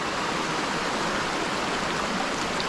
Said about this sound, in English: So here's the creek. That's where they've got their little dam right there.